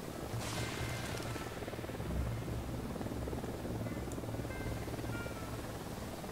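A helicopter approaching in the Ghost Recon Wildlands video game: a constant rotor drone with a low thumping pulse, held steady and fairly loud over the whole stretch, with no voices.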